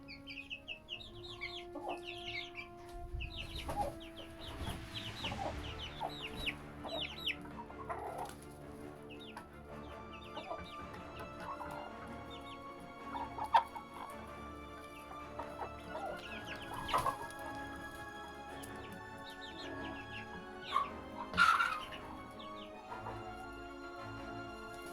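Adult chickens cluck and chatter around scattered food, with a rooster among them. Soft, irregular clucks and short squawks come from several birds at close to moderate distance, and a few louder calls stand out.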